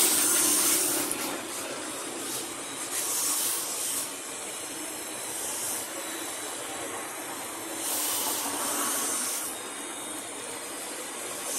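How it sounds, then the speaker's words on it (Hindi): A brazing torch welds the copper pipe of a split AC unit, giving a continuous close, loud hiss that swells and fades slightly, with no speech. "अब ये जो बीच में ये वाला यू है, इसको भी एहतियात के तौर पे वेल्डिंग कर देता हूँ।"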